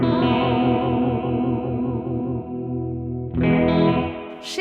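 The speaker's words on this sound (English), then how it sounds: "Modulation is the flutter and wow." Source Audio Artifakt lo-fi pedal on a slapback delay setting with wow and flutter modulation: a warbling, pitch-wavering chord repeats in quick pulses, then a fresh strum rings out with that wobbly tape-like smear.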